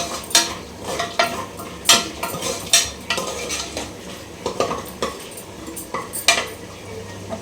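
Whole cloves and spices fry in a pan for a capsicum chicken dish. A spoon stirs and scrapes against the metal in repeated, clattering strokes, and a soft sizzle runs underneath. Close and moderately loud, with no voices.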